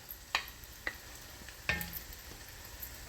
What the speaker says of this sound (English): it is now time to put in our chopped up garlic